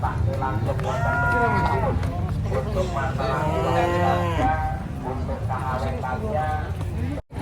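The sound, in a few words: cows mooing while unloaded from a truck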